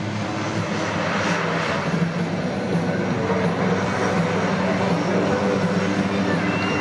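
C-27 military transport aircraft flying at an Australian airshow, a steady, loud turboprop engine roar filling the whole stretch without letup.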